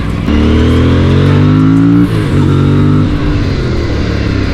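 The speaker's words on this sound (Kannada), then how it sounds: "ಇವಾಗ ನೋಡಿ ಅಪ್ ಆ್ಯಂಡ್ ಡೌನ್ ಶಿಫ್ಟ್ ಕೂಡ ಅಷ್ಟೇ you can shift it very easy with the help of slipper clutch" An Aprilia Tuono 457 motorcycle with a slipper clutch revs loudly up close, its engine note rising, dropping briefly at a gear shift, then climbing again in a continuous roar.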